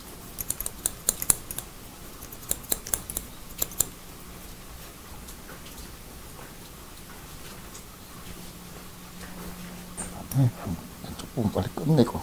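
Scissors snip hair on the crest of a mohican haircut in a salon, with bursts of quick, crisp cuts near the start and end and a quieter stretch in between, under faint background noise.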